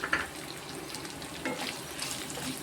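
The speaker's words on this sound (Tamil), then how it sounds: "இது எல்லாமே இன்னும் கொஞ்சம் நல்லா வதங்கட்டும்" Ginger and green chilies sautéing in a pan for a potato kurma, a steady low sizzle with occasional stirring scrapes and faint watery crackle, close and fairly quiet with no talking.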